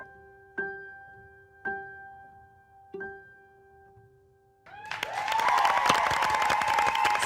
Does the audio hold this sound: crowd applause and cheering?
yes